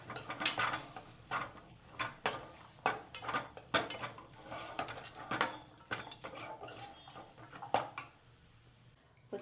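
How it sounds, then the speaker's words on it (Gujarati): A utensil stirs a green turmeric and peas curry in a pan, a quick irregular run of metallic clinks and scrapes, close but fairly quiet, no talk. "એને પછી ઘડી હલાવીને છોડવાનું છે."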